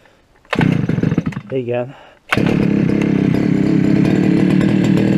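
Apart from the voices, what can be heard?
engine of a mower starting up for the first time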